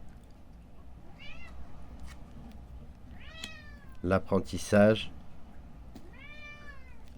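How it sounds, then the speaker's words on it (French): A cat meows several times, rising-and-falling calls spaced across the span, with one louder burst of overlapping meows midway, while someone speaks in French. "Oui, vous avez bien entendu le chat."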